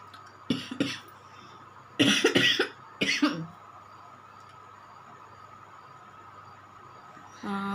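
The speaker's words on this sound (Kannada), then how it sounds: "ಆವಾಗಿಂದನೂ ಕೆಮ್ಮು ಅಂದರೆ ತುಂಬ ಕೆಮ್ಮು ಗಂಟ್ಲು ನೋವು" Several harsh coughs close by, in short bursts spaced across the first few seconds, then a stretch of quiet background hum.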